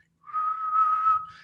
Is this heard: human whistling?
yes